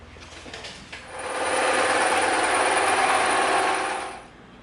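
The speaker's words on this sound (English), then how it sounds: "we are going to come in and we are going to cut this whole shape out on the bandsaw and the scroll saw" A bandsaw or scroll saw cuts through EVA foam, a steady close rasping whine that builds and holds for a few seconds before fading out, with no talk.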